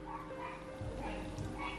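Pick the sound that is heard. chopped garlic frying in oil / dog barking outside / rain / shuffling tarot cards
dog barking outside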